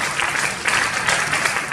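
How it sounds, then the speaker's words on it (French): Applause from a church congregation greeting Jesus, a short, dense burst of many hands clapping close by, steady and loud throughout. "Acclamons pour Jésus."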